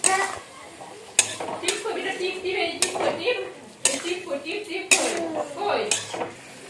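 Spice paste of chili, onion, ginger and garlic stirred in a pan for chicken kosha, sharp spatula knocks against the metal recurring every second or so over soft scraping and a faint sizzle, close by.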